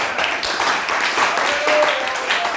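A church congregation claps and applauds continuously, with a dense, steady wash of hands, while voices and sustained music sound under the clapping.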